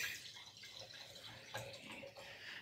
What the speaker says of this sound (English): Mind if I pour? Yeah, please do.